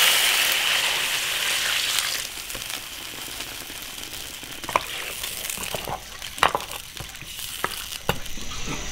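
Water poured into an iron wok of frying yak ribs sets off a loud, rushing hiss that fades after a couple of seconds into softer bubbling, with scattered clicks and spatula taps.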